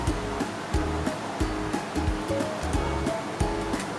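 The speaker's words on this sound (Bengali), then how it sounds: "কড়া গরম হয়ে গেছে, আমি এর মধ্যে সরষের তেল অ্যাড করছি।" Mustard oil in a hot wok for pineapple prawn curry, a steady loud sizzling hiss broken by regular scraping knocks roughly every half second.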